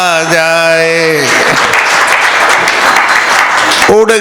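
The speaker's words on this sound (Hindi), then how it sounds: "तालियां मिल के बजाओ तो मजा आ जाए" A live audience bursts into sustained applause at a Hindi comic poetry recital, a kavi sammelan, after a voice trails off, the dense clapping holding steady until another voice briefly returns at the end.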